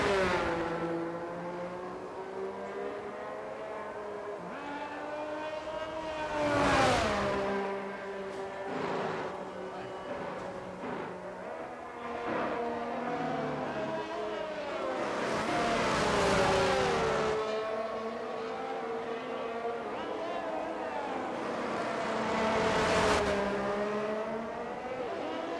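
Formula 1 race cars in the racing game F1 22 at the Hungary circuit during qualifying, steady high engine whine rising and falling with gear shifts as cars pass, under continuous commentary.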